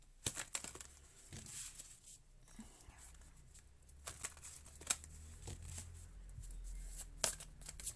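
Tarot cards being shuffled in a quiet room, a series of soft, close riffling and snapping bursts with faint murmuring between them.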